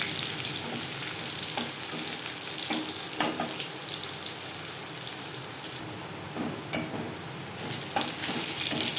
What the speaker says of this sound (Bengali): একটা মিডিয়াম সাইজের অর্ধেকটা রসুন আমি খেতে করে নিয়েছি রসুন হালকা করে ভেজে নেব